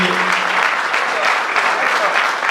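Audience applause fills a gathering marking Baradero's 400th anniversary, dense and steady clapping throughout, close and loud, with no voices standing out.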